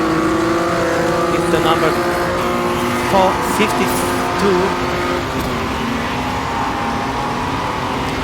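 Race car engines in the Automobilista 2 racing game during an AI race in the rain, a steady loud droning whine with shifting pitch and brief louder surges, continuous under someone talking throughout.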